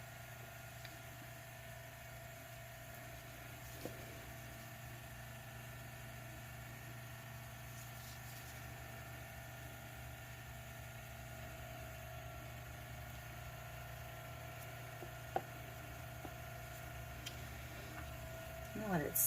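Small tumbler cup turner motor spins a black-based resin tumbler coated with alcohol inks, giving a steady low hum and faint mechanical whir that runs evenly throughout, with a brief click near the end.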